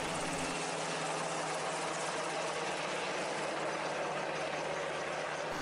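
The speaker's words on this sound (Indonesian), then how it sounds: "bantuan pemadaman jalur udara menggunakan helikopter bom air" A water-bombing helicopter over a forest and land fire near a residential area in Kotawaringin Timur, Indonesia: a steady, dense rotor and engine roar, loud and unbroken, with no voices.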